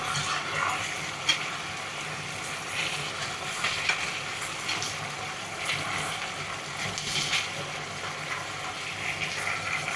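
Jade pea pods stir-fried with a little salt in a hot pan, a continuous moderate sizzle with occasional light clicks of the spatula, no talking.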